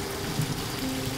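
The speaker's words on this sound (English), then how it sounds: "Watch the rain." Rain falls steadily on a quiet outdoor spot in the land of Israel, a soft, even hiss with faint scattered drops and no voices.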